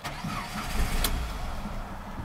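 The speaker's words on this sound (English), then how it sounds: "immobilizer light is on right now and the car started and stalled" A Chrysler PT Cruiser with an immobilizer fault cranks, fires up briefly, then stalls, a short rough engine burst that dies back to a low rumble, heard close with no talking.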